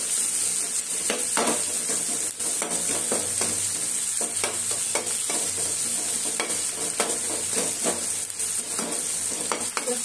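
Onions and tomatoes with salt fry in a pan, a steady close sizzle broken by repeated scraping strokes of a stirring spoon, with no talking.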